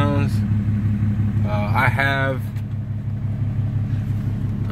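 A deleted 2008 Cummins diesel pickup truck engine runs with a deep, loud, pulsing rumble close by. Someone speaks briefly over the idle, and the engine keeps a steady low throb throughout.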